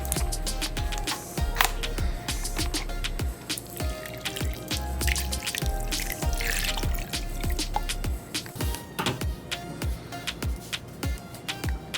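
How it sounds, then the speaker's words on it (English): Orange juice is poured over chicken pieces for baked orange chicken, giving a steady run of close, wet drips and trickles with no talking. "I'm going to put some of this orange juice just to cover."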